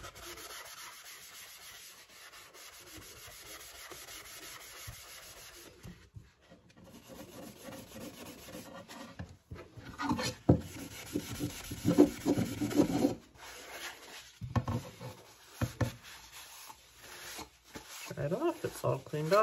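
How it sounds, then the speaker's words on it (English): A board eraser rubs chalk off a chalkboard in bursts of soft, scratchy rubbing strokes, close and gradually growing busier, with a voice talking quietly in places. "And clean it up with the board eraser."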